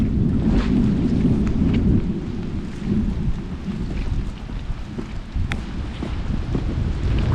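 Heavy downpour in a sudden storm with thunder and lightning, a loud, steady roar of rain with deep rumbling and wind buffeting the microphone throughout, no voices.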